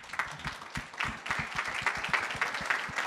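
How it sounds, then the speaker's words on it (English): An audience at a crypto event in Los Angeles applauds with distinct, fairly sparse claps that build into a steady patter, moderately distant and not very loud. "I want to give a quick round of applause to my team."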